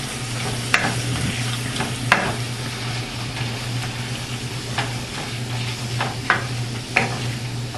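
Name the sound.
ground beef browning in olive oil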